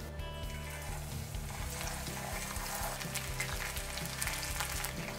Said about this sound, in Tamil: இப்போ எண்ணெய் சூடா இருக்கு, போட்டு பொரிச்சு எடுத்துடலாம்